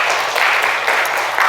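Congregation applauding during a Sunday church service, a loud, dense, continuous round of clapping with no talk.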